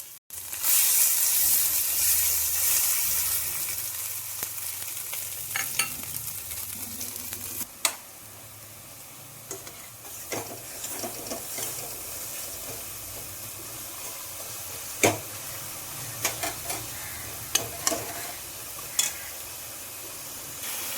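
Ground spices (turmeric, salt, cumin powder, dry chilli powder and garam masala) frying in a pan, a steady soft sizzle with a few sharp scrape and clack sounds as they are stirred.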